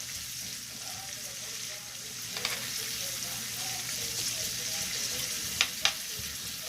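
Mushrooms fry in butter with a soft, steady sizzle throughout, and a couple of faint clicks come from the pan near the end.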